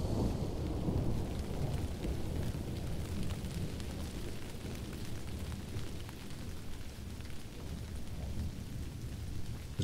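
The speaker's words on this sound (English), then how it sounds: "as soon it begins to rain, washing away all evidence" Steady heavy rain pours down with deep rumbling thunder rolling underneath, a continuous dense wash of noise with no voices.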